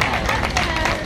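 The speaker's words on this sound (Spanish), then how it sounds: "fuerte el aplauso entonces" Audience applause at a tango show on a Buenos Aires night out, a dense steady wash of clapping filling the whole moment with no pauses, loud and close.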